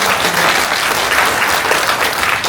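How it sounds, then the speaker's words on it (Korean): An audience at a book concert gives loud, dense applause, a continuous wash of many clapping hands that fills the room evenly from start to finish. "박수 한번 주시겠습니다."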